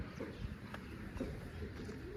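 Soft, low cooing from a pigeon, faint and muffled against a steady background hum, with a few murmuring pulses across the short stretch and no voices.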